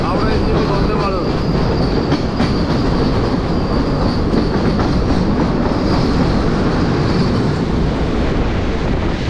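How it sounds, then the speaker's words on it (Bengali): The Howrah–NJP Vande Bharat Express rushes past close by with a loud, continuous roar and rhythmic wheel clatter throughout. "বন্দে ভারত যাচ্ছে, হাওড়া এনজেপি বন্দে ভারত।"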